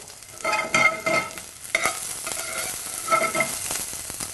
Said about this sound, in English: You want to add your shallots. Give it a little mixture.